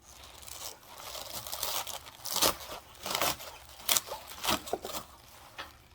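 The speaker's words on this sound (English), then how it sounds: "So the first thing I do is take the collard greens and cut." Collard green stems being cut by hand give a few short, soft crunching and tearing snips close by, spaced between quiet pauses, with no talking.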